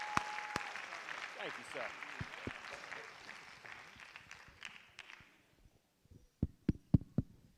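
Audience applause at a school board meeting in Westbury: a fairly faint, scattered round of clapping in a hall that fades away midway, followed by a few louder close knocks or claps, with a brief spoken thanks.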